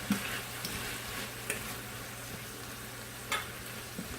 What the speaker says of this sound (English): And give it a good stir